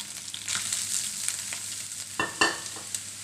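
Radish tipped into a pan of frying garlic and chopped green chillies, a quiet steady sizzle that flares into a louder crackling burst as the radish lands, close by.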